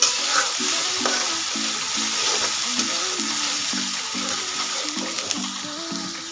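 Spices and masala paste for a broccoli gravy sizzle steadily in hot oil, a continuous frying hiss with a repeating, regular stirring pattern close up and no talking.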